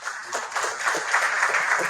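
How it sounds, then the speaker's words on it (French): An audience at a closing event for Numériqu'Elles, a Malian women's program, claps in a brief, moderately dense burst of applause with many overlapping hand claps, fairly close and steady, with no voices. "Cette acclamation-là était pour Communitas."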